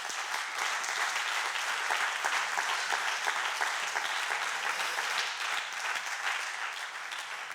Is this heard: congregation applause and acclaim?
yes